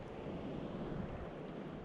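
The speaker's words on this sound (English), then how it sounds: "Look at those waves though." Ocean surf rolling in where a longboard surfer paddles offshore, a steady broad wash of breaking waves mixed with wind buffeting the microphone, continuous and fairly loud with no talk.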